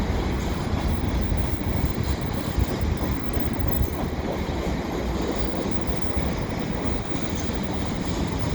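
A CP westbound mixed freight train rolls past in winter at Dorval, a loud, steady rumble and rattle of wagons on rails that holds unbroken throughout.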